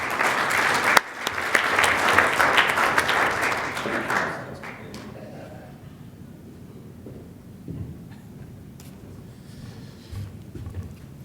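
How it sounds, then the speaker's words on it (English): Conference audience at a MediaPost Cross-Channel event applauds loudly for about four seconds after a speaker's introduction, then the clapping fades into quieter room noise with scattered faint sounds. "A big round of applause for Ross Fadner."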